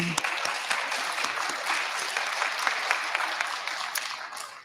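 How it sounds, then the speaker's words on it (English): A science and engineering fair audience in a university venue breaks into applause, a continuous, fairly loud wash of clapping with scattered sharper claps, briefly overlapping a voice at the start. "Some applause for U of M."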